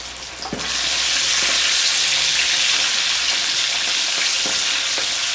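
Garlic chicken wings frying in hot oil on high heat, a loud, constant close sizzle that swells in after a brief quieter start and holds steady throughout.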